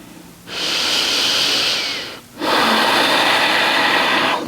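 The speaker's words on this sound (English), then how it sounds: "Breathing nice and deep through the nose" Two long, steady breaths drawn deeply through the nose during a slow yoga stretch for back pain, each a loud, broad airy rush lasting about two seconds with a brief pause between, close to the ear and with no talking.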